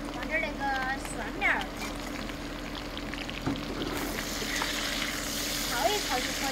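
Cured pork stir-fried in a wok with Sichuan peppercorns, chilies, ginger and garlic sprouts gives a steady sizzle and crackle under an ongoing conversation, the frying noise swelling brighter toward the end.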